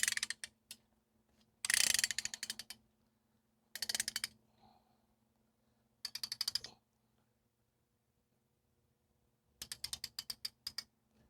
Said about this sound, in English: And then it's as easy as cranking it down.